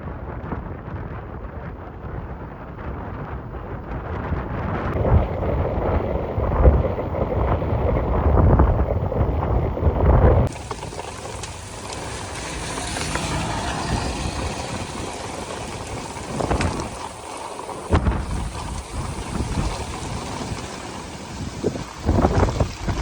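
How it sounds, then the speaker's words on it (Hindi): Heavy storm with lashing rain and strong wind at Mangla Dam near Mirpur, Azad Kashmir, a continuous roaring wash of wind buffeting the microphone and pouring rain, loud and unbroken throughout. "जितना शदीद तूफान आया सी ना इतनी जनाब तूफानी बारिश आई है"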